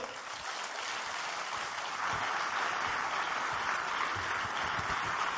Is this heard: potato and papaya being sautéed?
no